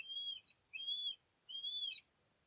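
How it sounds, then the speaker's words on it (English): Three high, thin whistled calls from a hawk in a tree, evenly spaced and fairly faint, with quiet pauses between them. "there's a hawk in that tree"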